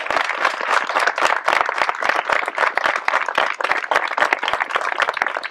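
An audience applauds for families affected by coronavirus, with loud, close hand claps in a brisk, continuous patter lasting throughout and no speech over it.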